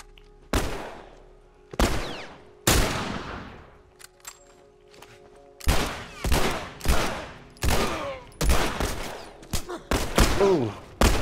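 Heavy gunshots ring out in The Last of Us Remastered, a string of sharp, booming single cracks with lingering echo, spaced irregularly then coming faster toward the end, heard without talk over them.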